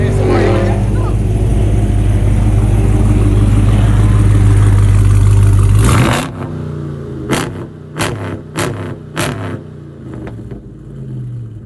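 A 2021 Dodge Charger Scat Pack Widebody with a deep, loud, sustained engine roar that cuts off abruptly midway, followed by a few sharp thuds and quieter background noise.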